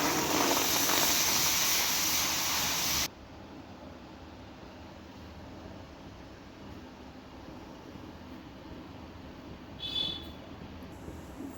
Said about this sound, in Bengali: এবার আমরা ওই একই কড়াইতে দিয়ে দিচ্ছি জল